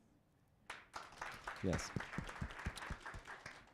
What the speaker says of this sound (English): if you see my hand going up, please start clapping